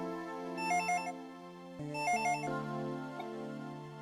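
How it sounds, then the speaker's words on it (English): A telephone rings in a Dragon Ball Z video game, an electronic warbling ringtone sounding in two bursts, clear and moderately quiet. "The phone's ringing."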